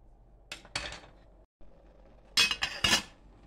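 A cooking pot of boiling nopales being covered with its lid, giving a few sharp metallic clinks and clatters in two close bursts, with a short silent gap between them.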